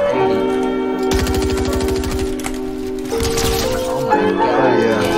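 Rapid SMG gunfire in a trios arena shooter match, a dense rattling burst of shots over a steady sustained music tone, with a voice talking over it.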